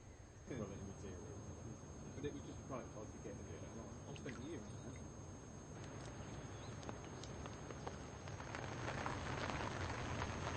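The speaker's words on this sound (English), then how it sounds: "The rain, which had briefly subsided, came back with a vengeance around lunchtime" Rain falls onto a lake at a carp fishing venue, a soft continuous patter and hiss at low level with scattered drops and some irregular knocks, fairly faint throughout.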